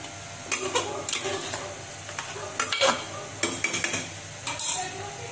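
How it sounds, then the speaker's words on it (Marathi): A spoon stirs minced kheema with kasuri methi and fresh coriander in a hot pan, producing a run of scraping, clattering strokes against the metal over a low, continuous sizzle. "परत एकदा आपण हलवूया."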